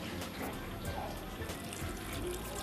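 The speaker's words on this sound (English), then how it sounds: "You mix the salt in the water." Salt being mixed into water, with continuous close sloshing and swirling of liquid, a steady watery wash with small splashes, no voices.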